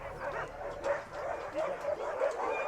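Northern-breed sled dogs at a rescue ranch, a cluster of barks, yips and whines repeating in rough bursts at moderate distance, with a little human voice mixed in.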